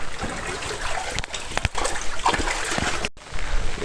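Floodwater sloshes and splashes through a flooded yard in Santhipuram village, Mannar, after heavy rain, a close, continuous churning with irregular splashes and brief pauses.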